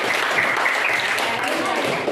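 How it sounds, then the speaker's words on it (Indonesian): Classroom audience applauding, a dense, loud burst of clapping that holds steady through the short moment, with voices mixed in. "Tepuk tangan untuk kita semua."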